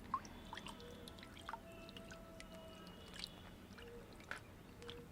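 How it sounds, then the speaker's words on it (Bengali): Water drips and splashes softly over orchid leaves during watering, a scatter of faint irregular drops and small squishy trickles against a quiet background. "জল দিয়ে দিন"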